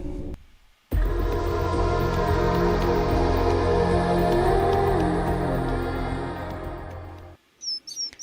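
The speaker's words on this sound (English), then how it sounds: "and this is a bird" Bird song from Venezuela, a bright stream of chirps and tweets that starts abruptly and carries on loud and steady for several seconds before cutting off, with a faint trace of other sound at the edges.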